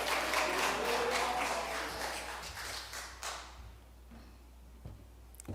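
Congregation applause in a Korean church during a Sunday worship service, a dense wash of clapping for about three seconds that fades to scattered claps and room noise.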